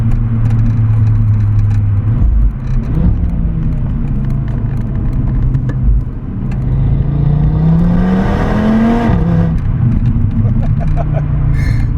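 A stock Audi RS3 with a five-cylinder engine accelerates, its intake giving a deep, loud drone that climbs steadily in pitch, dips as it changes gear, then rises again, with someone talking over it.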